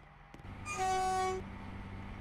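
A Stepford Connect train departs in a train video game at Millcastle. A brief two-tone horn sounds for about a second over a low steady engine hum, then the hum carries on alone.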